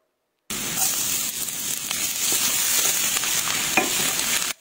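Ginger and garlic sauté in a hot pan for a Filipino chicken dish, giving a steady, close, loud sizzle with faint stirring scrapes throughout, no voices.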